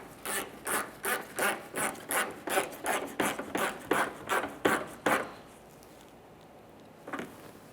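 Rapid ratcheting of a wrench tightening the corner mounting bolt on a rear bumper bracket of a 2014-2019 Toyota Corolla, about a dozen even raspy clicks for five seconds, then quiet and one last short click, close by with no talk.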